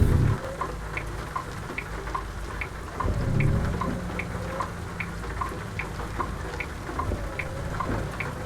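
Steady rain pours at night in a semi truck simulator game, with faint regular ticking and a low rumble of thunder swelling briefly partway through, all fairly soft and unbroken.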